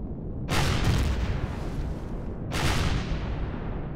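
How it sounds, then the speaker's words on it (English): Enemy gunfire in Empyrion Galactic Survival: two heavy booming blasts about two seconds apart, each trailing into a rolling rumble over a constant low drone. "he's firing at us"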